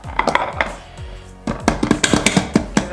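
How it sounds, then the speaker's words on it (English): A bundt cake pan is placed on a plate and flipped over, producing close, loud clattering and knocking of metal against dishware in quick irregular taps and bumps. "Let's go ahead and stick our plate on and flip it over."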